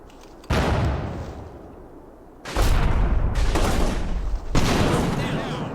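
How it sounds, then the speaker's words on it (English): Mortar fire in the war game Combat Mission: three loud, booming blasts, each rumbling out for a second or more before the next, heard close. "I'm hearing mortar fire."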